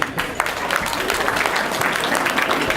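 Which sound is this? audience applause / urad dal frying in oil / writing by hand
audience applause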